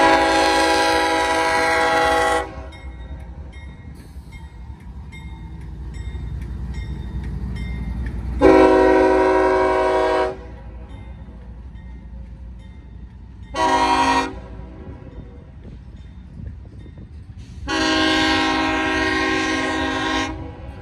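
A Norfolk Southern train at a CSX rail interchange sounds its horn in four loud blasts, two long, one short and a final long one, over the low rumble of the train.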